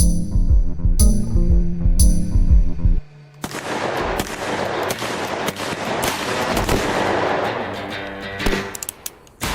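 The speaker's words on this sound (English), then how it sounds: "With gunshots raining down from the hills, Mays takes cover under the wagon, returning" Gunshots crack in a gunfight in the hills, with rapid sharp reports and echoing bursts over a rumbling, chaotic background, some shots loud and close.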